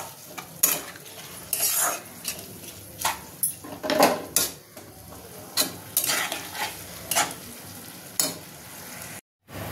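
Ghugni masala sautéed in a pan: repeated scraping spoon strokes and clinks against metal over a continuous frying sizzle, close and fairly loud, with a brief silent gap near the end.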